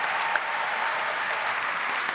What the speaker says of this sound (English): Big round of applause for Randy